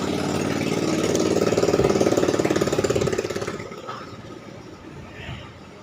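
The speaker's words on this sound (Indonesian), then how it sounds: "ada motor, bentar" A motorcycle engine passes close by with a pulsing, throbbing putter that swells loudly, then fades away as it moves off, leaving quieter background noise behind.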